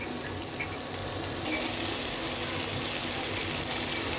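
Shrimp frying in a pan gives a steady, moderately loud broadband sizzle that grows slightly denser partway through, with no voices.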